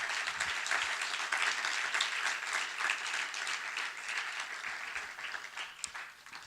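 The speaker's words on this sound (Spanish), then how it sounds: "Dale un aplauso al Señor." A church congregation applauds during a sermon, with sustained, dense clapping from many hands that fills the space evenly throughout.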